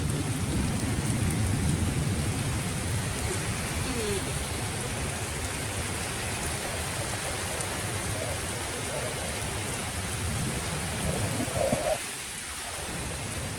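Heavy storm rain falls steadily through trees near a balcony, a continuous hiss heard at moderate distance that fades slightly as a soft thump sounds near the end.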